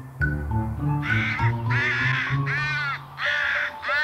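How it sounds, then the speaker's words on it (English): Crows cawing beside the Cambrian Railway near the Dyfi estuary in Wales: a series of loud, close, harsh caws, several in quick succession with short gaps between them. "Crows are a common sight throughout Wales, but these are resourceful crows."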